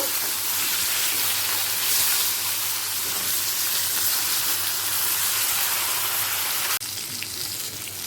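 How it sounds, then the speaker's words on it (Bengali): Katla fish pieces frying in hot oil, the second side browning, give a steady close crackling sizzle that fills the whole stretch, with a brief shift near the end as the pan is disturbed. "অপর পিঠটা ঠিক একইভাবে ভেজে নেব"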